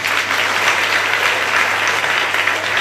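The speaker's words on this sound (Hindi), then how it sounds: "शाम के बाद में तालियां कमजोर हो गई है लगता है।" An audience at a church sermon in Nanded claps in steady, dense applause that sounds sustained and fairly loud from start to end, with no voice over it.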